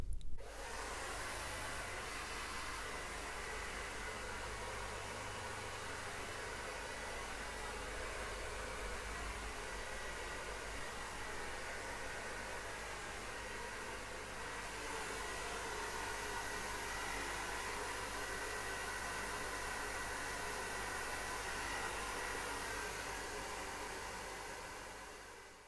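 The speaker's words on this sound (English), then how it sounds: "other option I'm going to show you is with your hairdryer again. So you want to use your diffuser" A hair dryer fitted with a diffuser drying curly hair after styling gel runs steadily close by, a loud continuous whooshing blow that holds constant for the full stretch and eases off only at the end.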